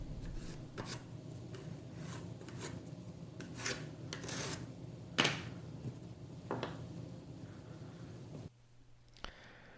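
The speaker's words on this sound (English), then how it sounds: "A pencil is used to trace the bottom shape of the Kreg Mini onto the plywood." Quiet, scratchy strokes of a pencil drawn across plywood, tracing around a small pocket hole jig, come in short rasping passes, then the sound drops to near silence.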